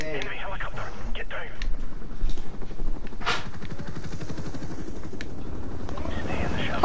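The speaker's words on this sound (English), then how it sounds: "Enemy helicopter" An enemy helicopter in a Call of Duty game drones steadily with a rotor chop that throbs through the whole stretch, carrying game effects and a short burst of noise partway through.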